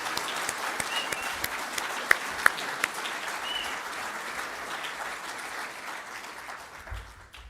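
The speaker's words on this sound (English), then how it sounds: "let's give them all a round of applause" An audience at a summit in Saskatoon applauds the speakers, a dense, steady clapping from a room full of people that fades slightly at the end.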